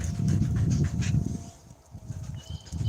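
A dog pants close to the microphone in quick, rhythmic breaths, with a thin whimper near the end, during a walk outdoors.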